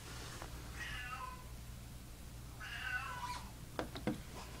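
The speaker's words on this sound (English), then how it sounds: "Oh my god, this cat is crying." A cat meows in two long, drawn-out crying calls set apart by a pause, moderately close over a steady low hum, with a few faint clicks near the end.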